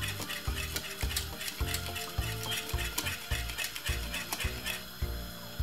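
Green plantain porridge made with milk being whisked in a pot, giving a steady rhythmic scraping and sloshing about twice a second, close and fairly loud, with no voices.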